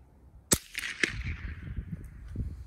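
A suppressed .30 caliber rifle fired through a Silencer Central thread adapter gives one sharp, close crack followed by a softer second report and a fading outdoor tail, with no talking.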